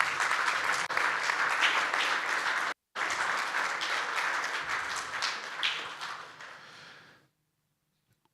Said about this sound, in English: join me in giving a round of applause for our Nexus members